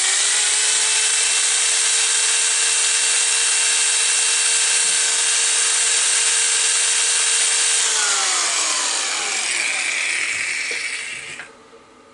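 Scotch-Brite white buff wheel spinning against a metal penguin Christmas ornament, a loud steady high whine with tonal hum that drops in pitch near the end as the wheel slows and stops.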